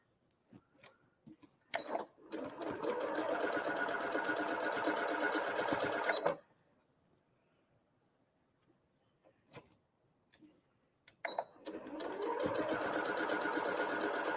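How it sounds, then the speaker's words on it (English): A sewing machine chain piecing quilt blocks runs in two steady stitching bursts separated by a quiet pause with small handling clicks, close and clear. "we can bring them to the machine and sew them one at a time"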